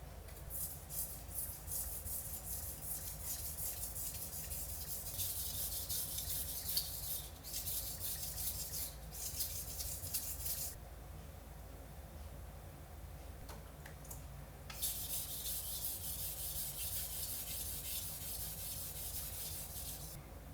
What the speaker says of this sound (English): Since this is a finishing stone, we're really just getting rid of that burr and polishing it to get that really fine edge.